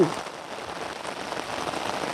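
Heavy rain falls during flooding in Dibër, a steady, close patter drumming on surfaces with no voices over it.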